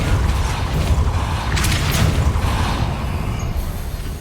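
Repulso spell cast in Hogwarts Legacy: a short whooshing burst rises out of steady rumbling game ambience, then fades back into the continuous background noise.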